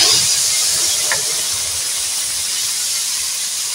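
A dried red chilli drops into hot tempering oil already crackling with spices, sending up a loud, steady hiss that stays close and fades only slightly as it continues, with no speech.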